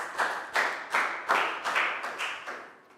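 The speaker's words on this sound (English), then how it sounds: "Big round of applause for Nadia" A small group of primary school children claps in uneven bursts in a classroom, a short round of applause that trails off after a few seconds.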